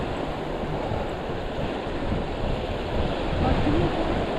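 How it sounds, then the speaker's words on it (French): Waves rise and wash against a shore in a steady, close roar of surf, with wind buffeting the microphone throughout. "L'eau, elle monte, hein?"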